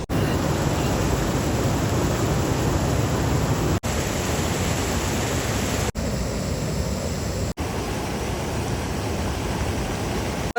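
Loud, steady rushing of heavy water, a continuous broadband roar that stays constant throughout with no pauses, close and enveloping.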